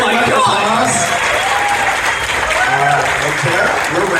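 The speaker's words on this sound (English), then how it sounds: "big round of applause to Supergirl Tara over here." Audience applause at a fan convention Q&A, a steady dense clapping crowd filling the room throughout, with a host's voice talking over it.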